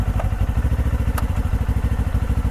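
A cheap hybrid gas/electric motorcycle with push-button shifting runs nearby with a loud, steady, rapidly pulsing engine chug and a brief higher rattle partway through.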